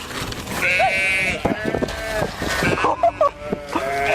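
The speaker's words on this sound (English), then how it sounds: "A herd of sheep had enough constant orders from a man and teamed up to charge at him repeatedly" A herd of sheep bleats loudly and close, several wavering drawn-out cries overlapping and repeating in quick succession.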